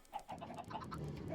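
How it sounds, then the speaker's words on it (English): Chickens cluck repeatedly in Minecraft, a busy cluster of short, overlapping clucks from a crowd of about two dozen birds at a farm, steady and fairly close with no talk. "That's 24 chickens. And they will start laying eggs"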